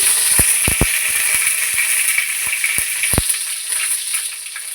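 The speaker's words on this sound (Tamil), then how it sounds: "இதிலே கொஞ்சமாக கருவேப்பிலை போட்டுக்கோங்க" Curry leaves crackle in hot oil for a rasam tempering with dried red chillies, a loud steady sizzle up close punctuated by several sharp popping bursts.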